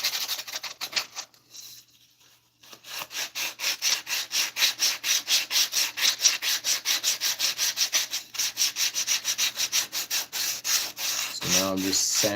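Hand sanding of wood with some leftover green paint being removed, a rhythmic back-and-forth rasping in quick regular strokes, close and fairly loud, with a brief pause early on and a voice starting at the end.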